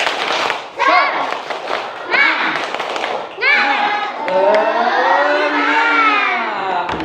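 A group claps out a rhythmic cheer in quick bursts, then breaks into loud unison chanting voices that carry on to the end.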